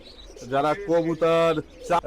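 Several loud, close coos from Teddy pigeons in distinct bursts, each a drawn-out throaty call, with short pauses between.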